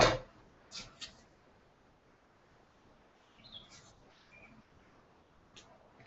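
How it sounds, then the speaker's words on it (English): Birds chirp outside, faint and distant, in a few short scattered calls over a quiet background, with a sharp click at the start. "Can you hear the birds?"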